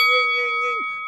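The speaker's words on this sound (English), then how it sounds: "hit that notification bell" A notification bell ding rings out as one sustained chime with bright, steady overtones that fade after about a second, heard alone.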